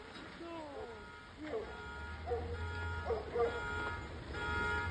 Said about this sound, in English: Of course, the car alarm's going off.